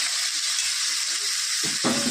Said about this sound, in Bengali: মোচাটা ভেজে নেব, মোচা কিংবা ফুট যে যা বলে থাকেন, এটা এখন ভেজে নেব।